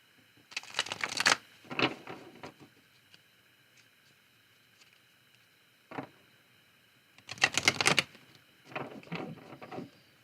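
Tarot cards shuffled in bursts, two loud riffles near the start and two more later, separated by softer single card slaps and quiet pauses, close and clear with no talking.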